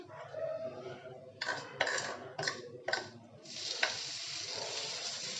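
Oats omelette mixture is poured in batches into hot oil and sizzles close up in a pan, several sharp bursts of frying giving way to a steady hiss.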